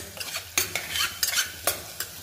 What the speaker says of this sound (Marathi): सगळे मसाले आणि अद्रक लसूणची पेस्ट जी आपली परतायची राहिली होती ती परतून घेते